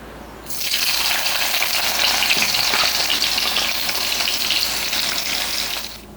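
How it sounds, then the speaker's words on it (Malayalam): Thinly sliced onions fry in hot coconut oil, a loud, steady, dense sizzle that starts abruptly after a brief pause and holds evenly to the end, with no talking. "അത് നമുക്ക് ആദ്യം എണ്ണയിലിട്ട് വറുത്തെടുക്കാം."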